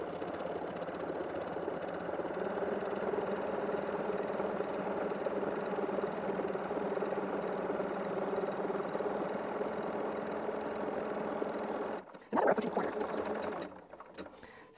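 A Bernina 790 Pro sewing machine runs steadily while stitching applique, a close continuous whirring hum for most of the time, then a sharp stop and brief uneven bursts near the end.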